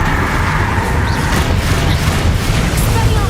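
Bombarda explosion spell cast in Hogwarts Legacy, a loud, sustained rumbling boom with broad crackling noise filling the short moment, a speaking voice faintly mixed in.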